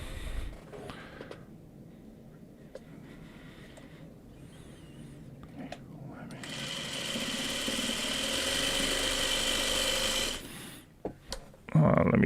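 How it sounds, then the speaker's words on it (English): A sewing machine stitches a quilt seam: a quiet low hum at first, then a steadier, louder whirring run for several seconds that cuts off, followed by a few close clunks and handling noises. "And now I sew on the third side."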